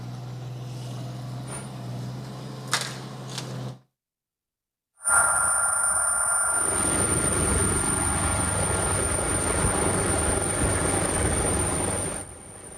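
Vigili del Fuoco fire brigade helicopter Drago flying overhead during a nighttime emergency, a steady loud rotor and engine roar that cuts out briefly, then returns with a high whine and continues unbroken.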